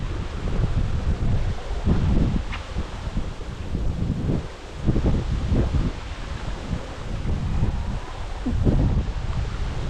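Cold wind blowing through Tham Nang Aen cave in Khammouane, Laos: a steady low rushing roar with gusty surges, continuous and fairly loud with no talk.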